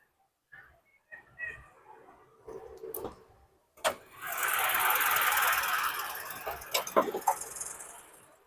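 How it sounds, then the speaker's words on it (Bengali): A Toyota Noah family car's engine starts, giving a burst of hissing roar that holds for a few seconds before settling into uneven clicks and knocks, with scattered sounds before the start. "দেখেন ইঞ্জিনটা স্টার্ট হলো"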